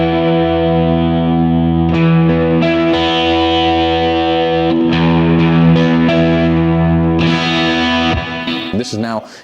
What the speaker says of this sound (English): This is now just the piezo playing.